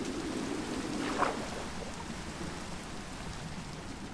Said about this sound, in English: it's raining pretty clearly.